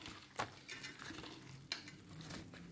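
Utensils stirring rujak mie, a dish of yellow noodles, grilled squid and lettuce, with light clinks and scraping taps against a bowl, fairly quiet with a couple of sharper knocks.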